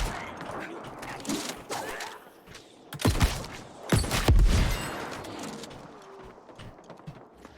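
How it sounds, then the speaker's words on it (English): Arrow explosions in the New World MMO, heard as two sharp, loud booming blasts about a second apart near the middle, over a busy game backdrop of clatter and ambient noise. "It's a big explosion for an arrow, really, isn't it?"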